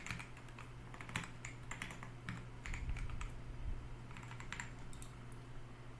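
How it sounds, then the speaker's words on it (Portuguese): Steady, soft typing on a computer keyboard as a license plate is entered into a parking-management app, a continuous run of close keystrokes over a low hum. "Digitar uma placa."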